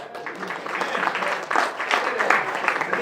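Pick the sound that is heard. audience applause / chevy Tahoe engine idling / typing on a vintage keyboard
audience applause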